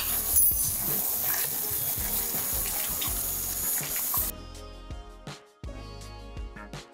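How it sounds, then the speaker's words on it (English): Water streams into a pan for butter chicken sauce, a steady splashing pour that stops partway, followed by a few scattered clinks and drips. "I'm going to add a little water to"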